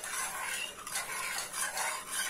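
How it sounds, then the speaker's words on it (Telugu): A ladle stirs a batter of milk and maida flour for a homemade cake, giving repeated close scraping and swishing strokes in a steady rhythm, with no talk. "సో ఈ గరిటెతో ఇలా కలుపుకుంటున్నాను."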